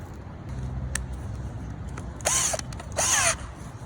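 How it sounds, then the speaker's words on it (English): A garden auger drills into soil in two short, loud, whirring bursts of under half a second each, over a quiet outdoor background, with no talk. "Oh, I should get my auger."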